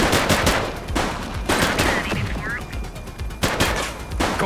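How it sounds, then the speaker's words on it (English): Rapid automatic gunfire in the police game The Precinct, with repeated sharp bursts of shots and echoing cracks through several seconds, loud and close, a voice briefly audible underneath. "She's shooting!"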